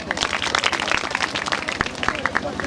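A classroom group bursts into brisk, dense applause for a prize winner during a nature lesson in the Pandurna Range of South Chhindwara, steady clapping close by for a couple of seconds.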